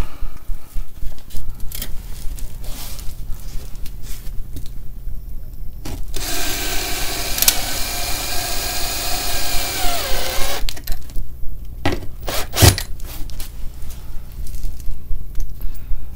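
A cordless screwdriver drives screws into drywall framing around a chimney enclosure in an attic, a sustained whirring burst of about four seconds with a rising pitch, framed by scattered knocks and handling noises.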